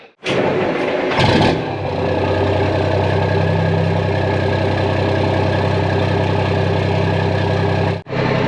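The engine of a lowboy tractor cranks, then catches and runs with a loud, steady low rumble close by. It shuts off abruptly near the end, and no one talks.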